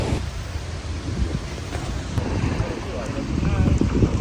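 Strong wind blowing across open water at a kayak launch on Fond du Lac, a steady loud rush of gusts buffeting the microphone, with low rumbling noise throughout and no voices.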